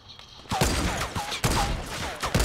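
A rapid burst of gunfire from the Fortnite video game, several loud sharp shots in quick succession with ringing tails, close and punchy.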